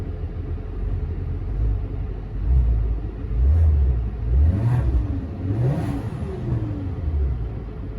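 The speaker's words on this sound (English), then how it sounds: "Let's see how the Maserati sounds." A 2015 Maserati Ghibli engine heard from the cabin, a low rumbling idle rising in several short revs that swell and fall back, with no talking.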